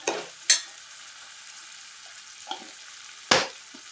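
Small prawns and onion fry in a pan for a Malvani dry prawn dish, with a soft continuous sizzle broken by a few sharp clinks and scrapes of stirring.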